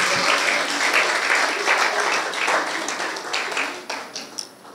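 Church congregation applauding, a dense steady wash of clapping that thins and fades toward the end, with a few cheers mixed in.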